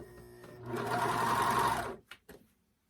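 A sewing machine stitching the front panel of a rashguard to the sleeve, running in one steady burst of about a second before stopping, then a couple of brief clicks and handling noises close by.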